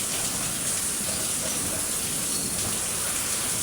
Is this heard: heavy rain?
yes